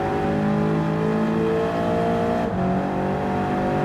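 A car engine in the Gran Turismo 7 racing game holds a steady, loud droning whine throughout, with no break or voices, as the red car pulls away.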